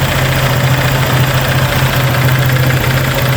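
A Honda PCX 150 scooter engine with a leaking head gasket and compression kickback runs loud and close, a steady rough idle with a constant low pulsing throb.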